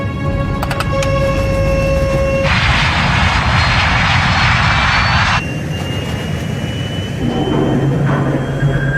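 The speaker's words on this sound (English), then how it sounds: "To save the plane, Captain Caviedes applies full throttle, burning up more of the plane's precious fuel." Airliner jet engines at full throttle, a loud sustained roar that fills the whole stretch and shifts in tone partway through, with no talk over it.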